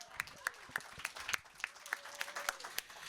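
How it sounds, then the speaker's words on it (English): Applause at an author event: a small audience clapping at moderate volume, with individual sharp claps standing out in a loose, uneven rhythm over a thin background. "That deserves a round of applause, too."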